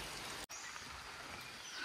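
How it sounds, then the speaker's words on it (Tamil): Light rain drizzles outdoors in Coorg as a soft, steady hiss of fine drops, quiet and continuous, with one brief dropout and no voices. "மழை லைட்டாக அப்படியே தூரிட்டே தான் இருக்குது."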